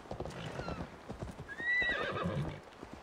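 A horse whinnies loudly over quick clopping hooves on a dock in rainy Assassin's Creed Valhalla, the hoofbeats rapid and close with the neigh rising in the middle.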